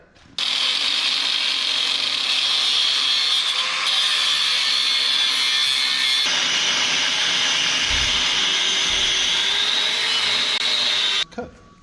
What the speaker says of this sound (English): He's going to have a go cutting these welds then.